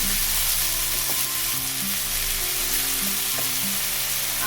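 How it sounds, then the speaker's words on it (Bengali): Green chilies frying in a pan with a steady, dense sizzle throughout, close and loud, with faint clinks of stirring. "অল্প একটু কাঁচা লঙ্কা দিয়ে এটাকে আমি ভালো করে ভাজতে থাকবো"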